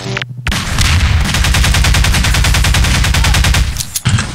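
Gunfire in the video game Half-Life 2 Deathmatch: a loud, sustained burst of rapid automatic shots lasting several seconds, close and dominant, with a brief pause at the start and end and no talking.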